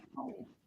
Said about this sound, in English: And there's a doggy in the background.